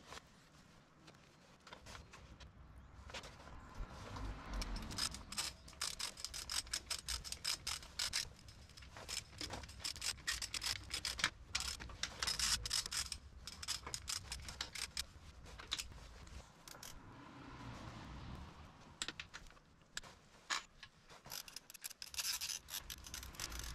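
Ratcheting and clicking mechanical tool work on a Toyota Land Cruiser HZJ73 H55F manual transmission as bolts are tightened with a torque wrench, a steady run of close metallic clicks and clatter continuing throughout.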